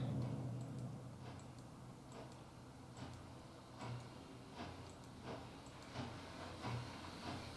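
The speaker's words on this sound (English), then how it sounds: "It is nice to see those trains coming around the corner." Model trains on the Wallace Branch layout roll around a corner with faint rhythmic clicking and ticking over a soft hiss, quiet and steady with regular wheel clacks.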